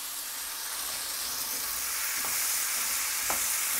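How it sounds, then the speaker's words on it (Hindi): Potatoes and chopped tomatoes with spices stirred in a frying pan, a steady broad sizzle and hiss throughout with a couple of faint scraping strokes of the spoon. "अच्छी तरीके से सब चीज़ों को मिक्स कर लें"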